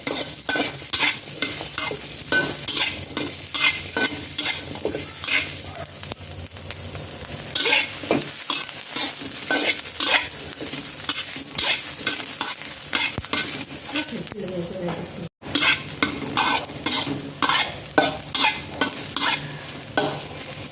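Chili peppers frying in a little oil in a pan, close, steady sizzling broken by repeated scraping stirs of a utensil against the metal, with a brief gap midway and no speech.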